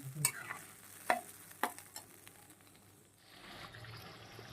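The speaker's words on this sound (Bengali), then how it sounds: "এদিকে মাংসটা প্রায় কষানো হয়ে গেছে" Chicken and spices are stirred and fried in a pan for Bengali chicken kosha, with a few sharp scraping stirs early on over a quiet sizzle that swells into a steadier hiss toward the end.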